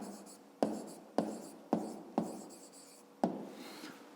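A pen writes on paper while a math exercise answer is set down: five or six sharp strokes land at regular intervals, each followed by a soft scratching trail, close and quiet.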